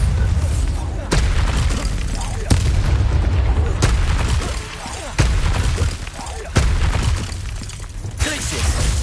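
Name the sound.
Bombarda blasting spell explosion from the video game Hogwarts Legacy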